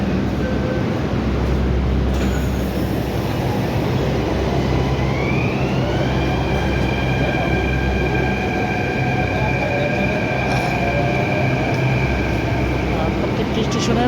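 Inside a moving Delhi metro train, a continuous loud rumble of the carriage runs under a rising electric motor whine as the train picks up speed, with faint wheel and track noise.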